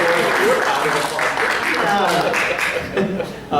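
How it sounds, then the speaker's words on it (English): Audience applause at a Red Bank downtown parking meeting, heard as a steady broadband patter under loud overlapping voices and some laughter for the whole stretch. "Let's give him a round of applause."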